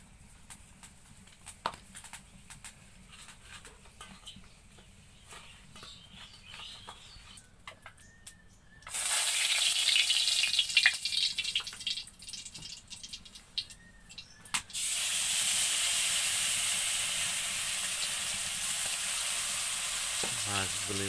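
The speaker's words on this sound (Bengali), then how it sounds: "মাছগুলি ভাজার জন্য মাছ ছেড়ে দেওয়া হয়েছে কড়াইতে" Turmeric-and-salt-rubbed fish dropped into hot oil in a kadai, giving a loud, steady broadband sizzle that starts abruptly and swells again partway through, with no voices.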